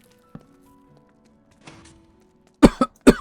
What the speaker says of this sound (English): Just can't stop coughing